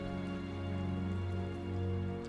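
Steady rain in the video game Castlevania: Lords of Shadow 2, a continuous even hiss layered over a low droning game ambience, with no voices.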